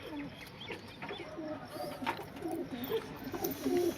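A large Giribaj pigeon held in the hand gives soft, repeated coos close by, with low murmuring notes recurring through the clip over faint background noise.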